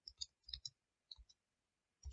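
Sparse keystrokes on a computer keyboard, a few quick clicks in small bursts with short pauses, quiet and close in an otherwise silent room.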